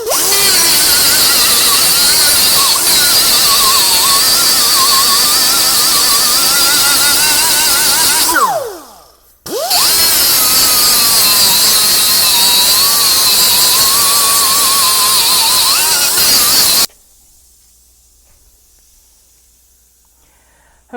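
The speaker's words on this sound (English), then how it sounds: "we're just gonna take a little die grinder, smooth those out real quick to make them easier to punch" A small die grinder smooths air-chiseled rivet heads on an FJ40 mini truck during a power steering conversion, a loud steady high-pitched whine that dips briefly to a stop midway, runs again, then cuts off into near silence.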